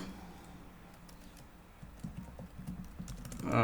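Scattered clicks of a computer keyboard as network configuration commands are entered, irregular and close, getting busier and louder toward the end, with no talking.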